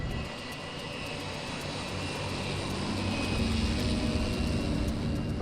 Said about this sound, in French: Voici le moment favori de la plupart des passagers, le décollage.